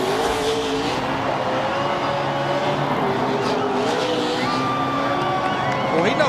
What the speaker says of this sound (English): Well, he knows how to do a burnout.